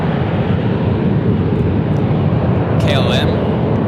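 A Turkish Airlines Boeing 777 jet at San Francisco International Airport gives a steady, loud engine roar that holds throughout, with a brief high tonal sound near the end.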